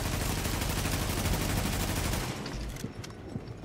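Gunfire in the shooter Tom Clancy's The Division during a boss fight: a dense, loud, rapid stream of automatic shots fills the first two seconds, then thins to scattered, quieter bursts.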